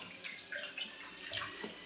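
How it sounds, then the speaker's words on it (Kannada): Water splashes and trickles steadily as it is poured into papaya juice and mixed, a close, continuous running sound with no voices. "ಸ್ವಲ್ಪ ನೀರು ಮಿಕ್ಸ್ ಮಾಡ್ತಾ ಇದ್ದಾರೆ."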